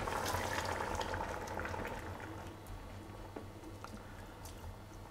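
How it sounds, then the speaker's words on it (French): Pork stew with white wine and broth simmering gently in a pot, a soft continuous bubbling and burbling, close but quiet, with no talk. "On va maintenir une très légère ébullition."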